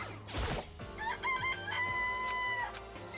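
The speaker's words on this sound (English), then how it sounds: "It's a chicken. It's really alive," A rooster crows in the DanganRonpa video game, one drawn-out cock-a-doodle-doo rising and holding steady, clear and close, set against game background music and short clucks.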